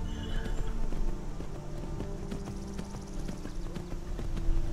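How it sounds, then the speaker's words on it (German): Horse hooves gallop in Skyrim, a steady rapid clip-clop on the ground with a faint snort, close and continuous, over an ambient game backdrop and no talking. "Wir haben das Pferd wieder."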